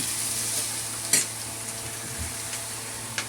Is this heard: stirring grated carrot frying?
yes